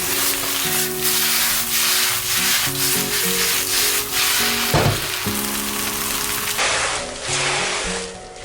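Rice noodles charring in a very hot wok over high heat, loud continuous sizzling and frying with scraping and stirring of the spatula against the metal, close up and without talk.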